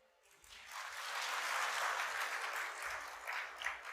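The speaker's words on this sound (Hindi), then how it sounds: "अब आप लोगों ने ये तालियां क्यों बजाई हो मुझे बताएं।" An audience at a talk breaks into applause that swells from quiet to a full, steady roar of clapping and then eases slightly, with no speech on top.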